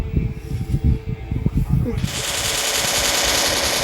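Gunfire in the Free Fire battle royale game during a ranked match: a rapid rattle of shots gives way to a steady, loud hissing spray, with players talking over the first part.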